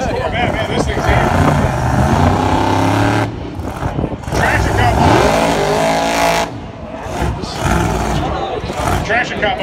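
A Box Performance Corvette making a drag racing pass at a Roadkill event: loud roaring engine revving and surging, rising and falling as it runs, with tire noise and a voice talking over the din.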